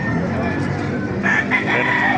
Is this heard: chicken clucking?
yes